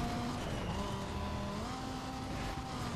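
A car engine in the racing video game Need for Speed Most Wanted, heard as a loud continuous drone with rising and falling gear-shift tones and no one talking.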